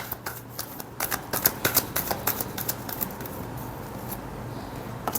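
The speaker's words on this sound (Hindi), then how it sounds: "last shuffle" Tarot cards are shuffled by hand in a quick run of crisp, close riffling flutters that fade into a softer rustle, with no talk over them.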